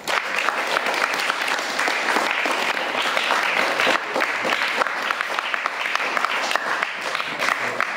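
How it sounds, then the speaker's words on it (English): An audience applauds at a government high school event where desktops and a printer are being handed over, a loud, sustained burst of many hands clapping throughout, with no speech over it. "a big clap to him also"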